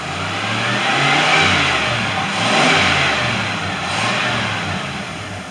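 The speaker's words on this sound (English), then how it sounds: "I'm going to give it some gas." A 1994 Ford F150 engine is revved repeatedly as the throttle is pressed, a loud, close, continuous roar rising and falling in waves. The truck has low power and a suspected throttle position sensor fault.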